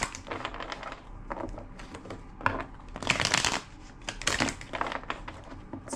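A deck of tarot cards is shuffled by hand in several crisp riffling bursts separated by short pauses, close and fairly loud.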